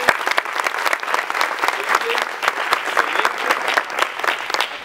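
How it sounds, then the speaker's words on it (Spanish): Applause from a group of about 50 to 60 people at a business meeting, dense clapping with sharp individual claps standing out, steady and fairly close throughout. "Un aplauso para ustedes"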